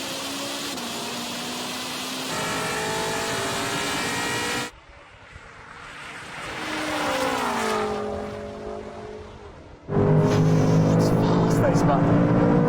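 BMW G90 and Ferrari SF90 in a roll-on drag race from 50 in third gear, engines roaring hard and rising through gears, quieter in a middle stretch, then surging loud again.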